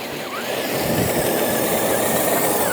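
A car engine drones steadily while driving with four-wheel drive and locking differentials engaged, a close, continuous rumble that swells slightly after the first half second.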